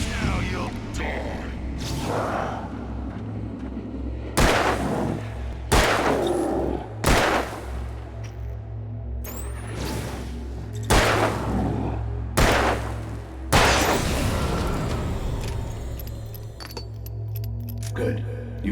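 Gunshots in the video game Alan Wake, about eight sharp, loud shots at irregular intervals over a dark droning game score, with voices talking between them.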